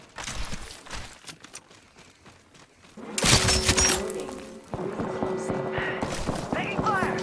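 Gunfire in the Apex Legends video game: rapid bursts of shots break out partway through and continue to the end, with a voice talking over them.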